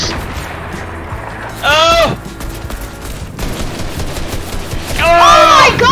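Fortnite gunfire during a family battle, bursts of rapid shots with whooshing, warbling weapon effects at loud game level, two main volleys separated by quieter stretches of background game sound, with players talking over it.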